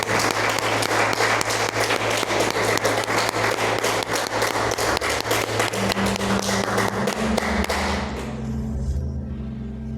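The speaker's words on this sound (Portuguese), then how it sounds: "Já aplaudiu o Senhor?" A church congregation bursts into loud, vigorous applause for the Lord, dense clapping close and full throughout, with a sustained tone from a keyboard or organ underneath and easing slightly near the end.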